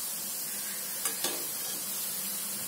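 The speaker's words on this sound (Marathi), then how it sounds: "छान ह्याला असं ब्राउनिश गोल्डन ब्राऊन कलर येईपर्यंत छान भाजून घ्यायचंय क्रिस्पी." Medu vada deep-frying in hot oil until golden brown and crisp, a steady broad sizzle with a couple of quick sharp clicks from stirring.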